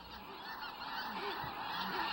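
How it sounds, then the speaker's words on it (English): A flock of geese honking repeatedly over a Mississippi bayou, the calls overlapping at a middle distance over a steady background of outdoor noise. "The geese and ducks that fill the afternoon sky were a sign of things to come."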